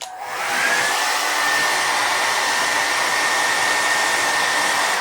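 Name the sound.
regular hair dryer running on high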